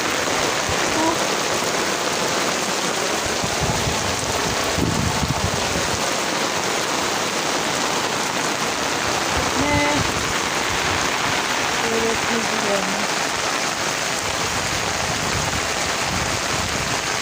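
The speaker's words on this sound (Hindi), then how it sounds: "बहुत सख्त बारिश हो रही है।" Heavy rain pouring steadily in a dense, even hiss of drops striking surfaces, loud and unbroken, with faint brief voice sounds underneath.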